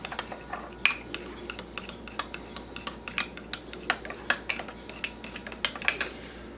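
A fork stirs honey hot sauce into a BBQ sauce in a bowl, producing quick, light, repeated clinks and taps against the side, close and fairly quiet with no one talking.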